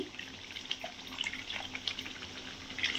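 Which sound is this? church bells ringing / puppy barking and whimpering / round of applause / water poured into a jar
water poured into a jar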